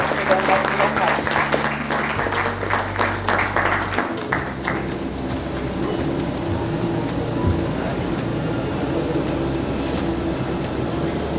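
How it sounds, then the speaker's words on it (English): Sustained audience applause fills a hall at the 19th Annual Chef Awards of the Indian Culinary Forum, steady and dense throughout, with low music or hum and some background voices underneath. "let's have a round of applause for them"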